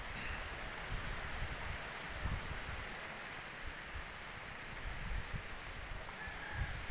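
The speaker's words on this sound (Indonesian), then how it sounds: "Cuaca hujan angin berkabut." Wind and rain in foggy weather around a cattle shed under construction, a steady broadband rushing with gusty buffeting on the microphone, fairly faint and continuous with no talking.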